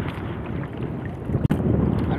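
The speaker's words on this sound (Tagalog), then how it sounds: "at saka malakas na yung hangin" Strong wind at sea on a fishing trip in Iloilo buffets the microphone in a steady low roar, with a brief dropout near the middle; no voices.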